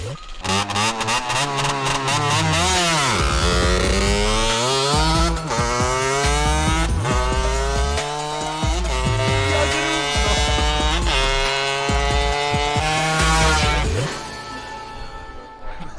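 A small 50cc motorcycle engine races an electric bike on a road, its loud two-stroke note revving hard through repeated rising gear shifts from start to finish.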